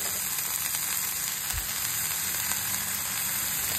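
Broccoli sizzles steadily in a hot pan with lightly fried ingredients for a paneer broccoli salad, giving a continuous close frying hiss with a brief dull knock partway through.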